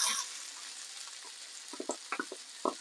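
Onion fries softly in a pan for curried chicken rice, a quiet hiss broken by a handful of light clinks and stirring taps near the end; close, with no talk.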